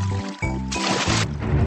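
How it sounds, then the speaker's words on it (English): Water rushes out in a short burst after a pin is pulled in the Fishdom rescue mini-game, with a splashy gurgle lasting under two seconds over a steady game music bed. "Now pull the pin to save the fish with water."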